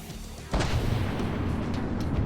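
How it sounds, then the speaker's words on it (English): Heavy particle cannon fire slamming into a vehicle's armor in the From the Depths naval combat game, an abrupt loud impact followed by a sustained rumbling roar. "Is he able to particle cannon me from that far away and do damage?"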